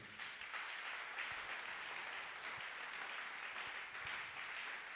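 A church congregation claps in continuous, even applause, with many hands blending into a dense wash that holds steady throughout at a moderate distance.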